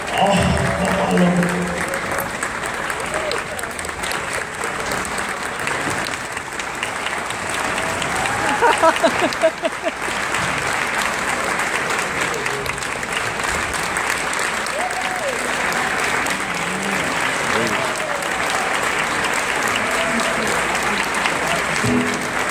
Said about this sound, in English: Round of applause for the beautiful Halau.